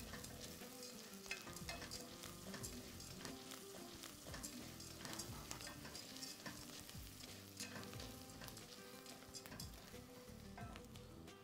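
Leeks and celery sizzling steadily in a pan as a spoon stirs through them, continuous close frying hiss with repeated scraping strokes, no talking.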